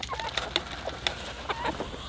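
Backyard chickens cluck in short, scattered bursts of sharp, close calls, several birds overlapping over roughly two seconds with no talking.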